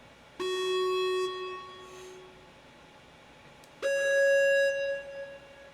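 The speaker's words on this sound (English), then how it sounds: "it's just a simple sine wave, and this was, again, just to add a little bit of bounce to it" Two sustained synth notes in a jazz-style beat, each starting with a sharp attack and then holding a clean, steady pitch with bright overtones. The second note is pitched higher than the first, and both play alone without any voice.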